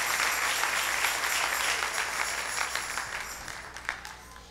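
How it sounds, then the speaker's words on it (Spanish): A church congregation claps for the King during a morning worship service. The applause comes as a broad, moderately quiet wash that thins and fades toward the end, with a few sharper claps standing out. "Dale ese aplauso al Rey en esta linda mañana."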